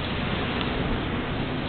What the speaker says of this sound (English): Been raining all night long.